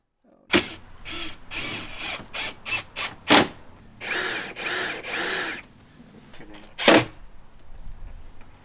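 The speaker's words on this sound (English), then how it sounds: "Now that we have secured the back angle supports in with construction screws" Power drill driving construction screws into the back angle supports of upper cabinets in a ProMaster van conversion, heard as several short bursts of whirring and a few longer runs, close and fairly loud, with brief pauses between.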